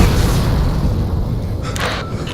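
An explosion in the video game We Happy Few: a deep, sustained boom rumbling steadily across the whole stretch, with a brighter burst of debris or crackle near the end.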